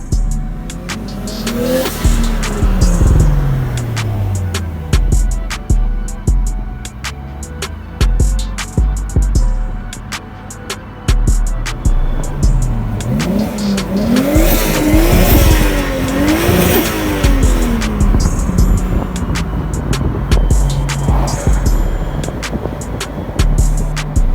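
A car engine revs repeatedly through a deep, throaty 3.7-inch exhaust, rising and falling in pitch with sharp crackles, loud and close, no talking.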